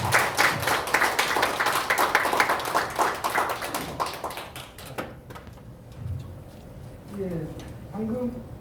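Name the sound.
applause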